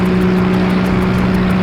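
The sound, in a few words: motorboat engine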